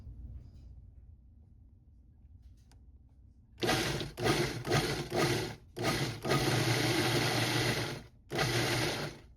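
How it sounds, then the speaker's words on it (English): Blender pulsing cilantro and tomatoes in short loud whirring bursts, about six pulses with brief gaps, the last one longer, after a quiet kitchen lead-in. "I'm going to pulse it until it comes together as I like it."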